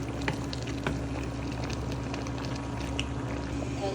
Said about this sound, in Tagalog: Paguluin na malambot siya.